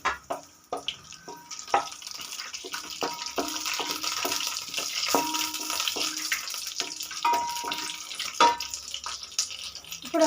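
Whole biryani spices sizzle in hot oil and ghee for a veg pulao, a steady crackling fry with sharp spatters and pops throughout, close and fairly loud.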